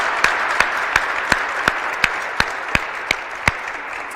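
Applause at a 2022 disabilities funding announcement comes through as a slow, evenly spaced series of about a dozen distinct claps over a steady background hiss.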